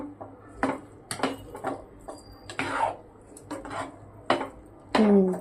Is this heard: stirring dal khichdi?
yes